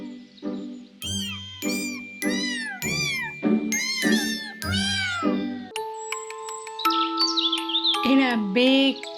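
A cat meows repeatedly in a string of loud, close, drawn-out calls, followed by gentle chiming music.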